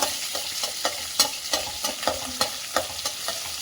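Cumin seeds, black pepper and garlic fry in hot oil in a pan for pongal, with a steady sizzle broken by regular scraping stirs of a spoon, close and fairly loud, with no talking.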